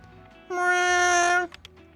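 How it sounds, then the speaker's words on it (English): A cat's single drawn-out meow in the video game A Space for the Unbound, clear and tonal, lasting about a second, followed by a few faint clicks. "Is he making Chinta meow for him?"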